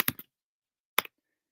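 A few quick, crisp key clicks in a short burst, then a pause and another brief pair of taps, close and fairly quiet.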